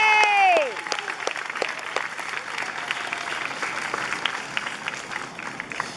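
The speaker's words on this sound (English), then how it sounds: "So if you can give those students a round of applause." Audience applause for students at a school band concert, sustained crowd clapping with scattered cheers, following a fading whistle-like cheer at the start and continuing steadily to the end.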